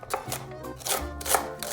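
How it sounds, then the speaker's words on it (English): A kitchen knife chops Swiss chard on a cutting board, giving a steady run of sharp, close taps and crunchy slices at an even rhythm with no talking. "we're just cutting these pieces off, the ends, and basically just chopping it up."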